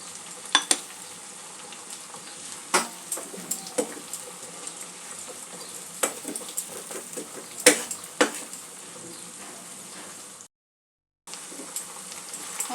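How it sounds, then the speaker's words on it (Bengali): Potatoes frying in a pan with onion and tomato for a Bengali bhetki fish chachchari, a steady close sizzle with scattered stirring scrapes and clinks, briefly cut to silence near the end. "আলুটা একটু ভালো করে ভেজে নিতে হবে।"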